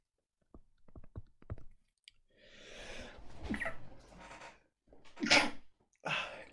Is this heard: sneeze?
yes